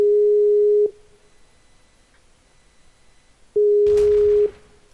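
A Skype call tone rings out unanswered: two steady, loud, single-pitch beeps roughly three seconds apart, each about a second long, with quiet hiss between and a brief noisy burst after the second.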